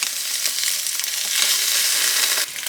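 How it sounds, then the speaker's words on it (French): Tofu slices frying in hot toasted sesame oil, a steady bright sizzle and crackle throughout with small stirring shifts, close and fairly loud, no voices. "Lorsque l'huile est chaude, on va venir y ajouter nos tranches de tofu."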